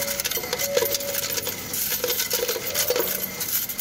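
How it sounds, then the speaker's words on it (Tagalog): Coins are dropped into a piso WiFi coin machine, a close series of irregular metallic clinks and rattles that keeps going without talk. "tutuloy lang natin yung pagpasok ng mga barya sa machine"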